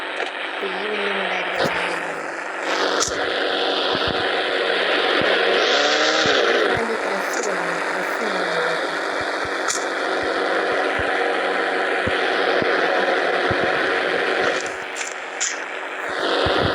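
An off-road Ranger police car driving in a video game, its engine droning steadily with shifting revs and occasional clunks, while someone talks over it.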